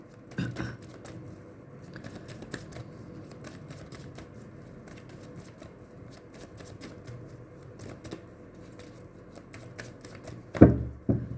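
Tarot cards get a final shuffle in the hands, a soft, rapid patter of papery clicks running quietly throughout, with a louder flurry of riffling near the end.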